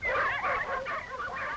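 Sled dogs in the cold north bark and yip in quick overlapping bursts, loud and close, with whimpering tones between the barks.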